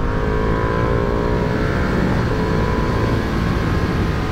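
A 2023 Ducati Panigale V2 engine hums steadily and loudly while being ridden on an open road, a continuous droning roar mixed with wind rush and no speech.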